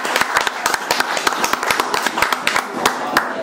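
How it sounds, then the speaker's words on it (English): Audience applause at a poetry reading, a steady run of loud, close hand claps from a small crowd, evenly spaced and continuing throughout without talk. "Actually, there's no need to clap after everyone."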